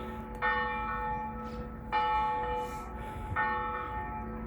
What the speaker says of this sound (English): Cathedral's going to town with the bells right now